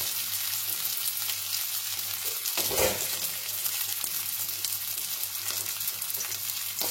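Carrot pieces sizzle in hot mustard oil, a steady frying hiss with a brief stir or scrape partway through, no talk.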